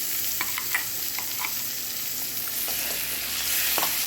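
Dried prawns sizzle loudly in a pan with chili paste while a spoon stirs them, giving a steady crackle broken by scraping clicks, with no voices.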